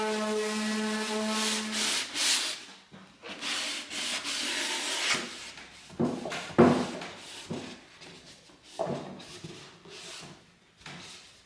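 Hand sanding a thrifted wooden wall cabinet with 220 grit sandpaper makes close, raspy scratching strokes in uneven bursts. Some strokes are long and steady and others short and choppy, with brief pauses between them.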